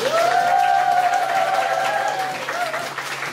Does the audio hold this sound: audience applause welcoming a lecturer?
yes